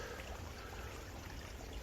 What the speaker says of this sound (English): That's all the water that's running in the creek.